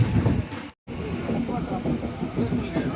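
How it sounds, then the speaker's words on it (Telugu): A MEMU express train pulls away from Tirumalpur station, a steady low rumble and rattle of moving carriages running throughout, briefly cut out once, with a voice talking over it. "బయలుదేరిపోయింది మన ట్రైన్ తిరుమల్పూర్ నుండి."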